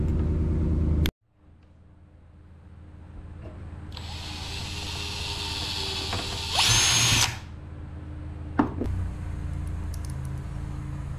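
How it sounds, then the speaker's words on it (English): Power drill boring holes for a rear window panel on a 2008 Honda Element, a loud steady whine for several seconds rising to a harsher burst near the end, with no talking. "And since I'm here, might as well drill the holes, or the hole that I need here and over here."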